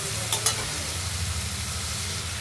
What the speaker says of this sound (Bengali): এবার পরিমাণ মতো জল আমরা দিয়ে দেবো